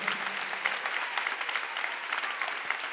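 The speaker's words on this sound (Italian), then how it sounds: "Un altro applauso per favore a Jacopo Fo." Steady applause from a live comedy podcast audience, a dense even patter of many hands clapping at moderate level with no voices over it.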